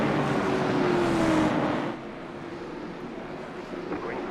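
Late model stock cars roar together on an asphalt oval at Hickory as the field takes the green flag, a dense sustained engine drone that eases slightly after a couple of seconds.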